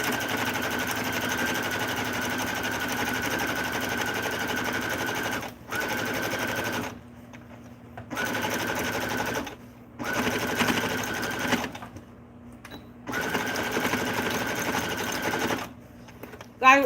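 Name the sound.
sewing machine stitching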